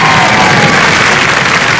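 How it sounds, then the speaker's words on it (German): A television studio audience applauds loudly and steadily, dense clapping that fills the room without a break. "Einen Applaus haben die drei natürlich nochmal verdient."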